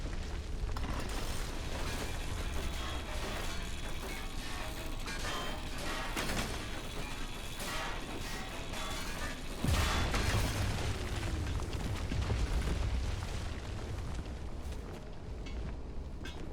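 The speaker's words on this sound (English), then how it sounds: "That wheel seems to take a while to grind off." A grinder grinding off a car wheel in the video game Pacific Drive, a loud, dense, continuous grating and rattling mechanical roar lasting throughout with no pauses, heavier and deeper toward the end.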